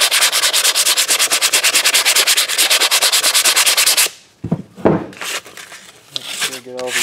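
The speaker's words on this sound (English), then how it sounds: "Using the sandpaper." Sandpaper rubbed over a wooden tea light candle holder in fast, even back-and-forth strokes, loud and close, then stopping, leaving scattered handling clatter and a brief voice.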